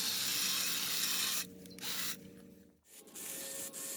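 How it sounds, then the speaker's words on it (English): A Dewalt 20V cordless hedge trimmer buzzes steadily through shrub branches during pruning, the loud motor whine dipping in pitch several times as blades bite into wood. "the hedge trimmer just cuts through them like butter"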